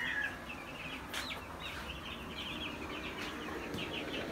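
Chickens and chicks in a cage on a poultry farm, clucking and peeping in soft repeated calls over a steady background hiss, fairly close but faint.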